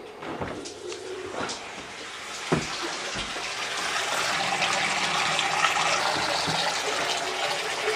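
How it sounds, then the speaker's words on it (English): Cold water runs steadily from a tap as a continuous hiss that grows slightly louder, with a few knocks and clunks near the start. "That's the cold water that's coming out."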